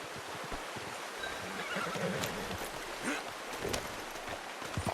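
Horse in Red Dead Redemption 2 gives a clear neigh and snorting amid hoof clops, set against a steady wash of rain-like ambience; no talking.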